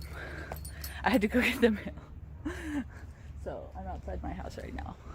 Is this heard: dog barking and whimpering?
yes